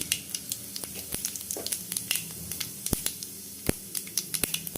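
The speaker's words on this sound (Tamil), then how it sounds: "அந்த எண்ணெயில் வந்து கொஞ்சோண்டு கடுகு போடுறேன் கொஞ்சம் சீரகம் போடுறேன்" Mustard seeds and cumin hit hot oil left from frying onions, giving a soft, steady sizzle scattered with sharp pops and crackles as the seeds burst at irregular intervals.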